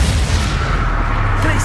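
Hogwarts Legacy combat with a loud, deep explosive boom sustained across a short span, heavy low rumble filling the clip, with a voice present amid the blast.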